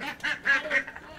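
Ducks quack in a short burst of three or four loud calls close by, at a community duck race event.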